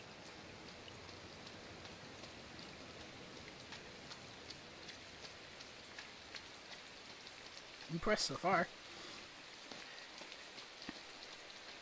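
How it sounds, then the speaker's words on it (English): Steady rainfall in the game Inside, a soft continuous patter on surfaces throughout, with a brief louder burst of speech cutting in partway. "It's a lot of rain going on."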